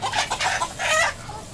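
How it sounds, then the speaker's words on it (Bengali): Several native Bangladeshi chickens clucking nearby on a farm in short, soft bursts, a low murmuring cackle rising and falling. "এই হচ্ছে দেশি মুরগিগুলো"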